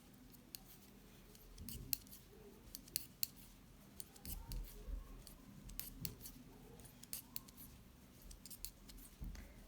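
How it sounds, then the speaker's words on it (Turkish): Scissors snipping through rows of a knitted sweater to cut a V-neck, a quiet series of short crisp irregular clicks and snips, close and faint, with no talk. "Dördüncü sırayı da son kez keseceğim bu taraf için."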